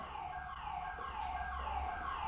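Car alarms sound outside a house in Cuenca, Ecuador, as a faint, distant wailing siren-like tone that rises and falls steadily, with no voices.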